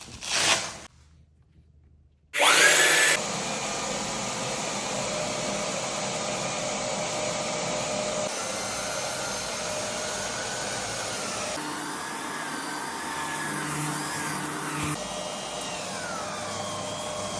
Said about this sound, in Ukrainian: я просто шліфую між шарами